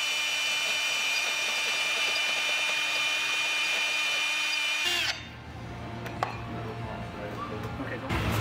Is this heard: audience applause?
no